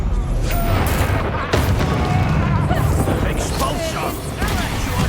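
Confringo spell blasts in the Hogwarts Legacy video game, loud booming impacts and crashes in quick succession amid continuous combat noise, with voices speaking over them.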